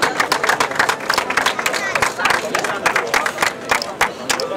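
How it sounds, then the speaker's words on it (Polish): A crowd at a triathlon awards ceremony claps steadily in a brisk, even patter, with an announcer talking over the applause. "Tak, za chwilę bijemy brawa następnym."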